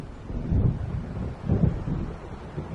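Low rumbling thunder from an approaching storm over Cauldron Lake in Alan Wake Remastered, two heavy swells rolling in under steady wind and surf noise, distant and moderately loud.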